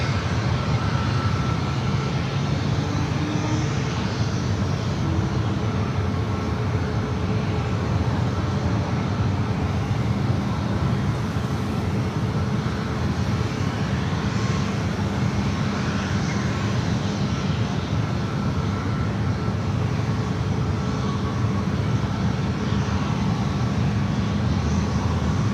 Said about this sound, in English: See a plane there in the distance